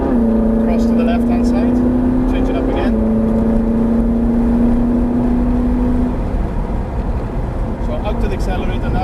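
A Ferrari 458 accelerates with a loud, rising engine tone that breaks off sharply at an upshift before climbing again and then fading.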